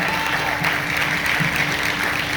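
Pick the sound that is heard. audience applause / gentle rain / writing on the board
audience applause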